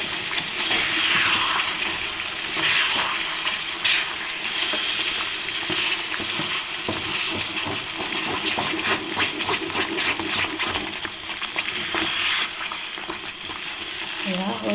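Sweet jolphy (olive) pickle cooks in a pan, a continuous bright sizzle with the scrape and stir of a spoon running through it, close and steady with no talking.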